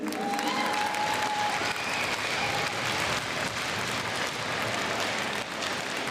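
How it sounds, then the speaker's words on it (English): A crowd at an ice hockey rink applauds to welcome an under-13 Victorian team onto the ice, sustained dense clapping at steady volume with faint cheers mixed in. "Big round of applause for them."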